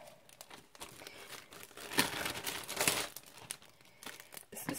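Adhesive tape being handled while crafting a double slider card, crinkling and crackling with a few sharper tearing rips, close and fairly quiet with no talk.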